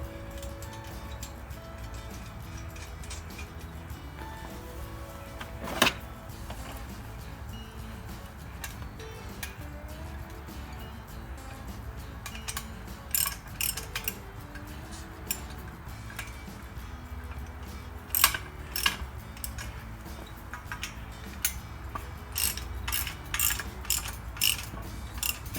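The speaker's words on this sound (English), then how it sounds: "Go ahead and tighten these 2 bolts." Bolts being tightened on a Hitchmount-RACK kayak rack crossbar for a Jeep, giving a steady run of faint metallic ticks and clicks with a few sharper clinks, close up and without talk.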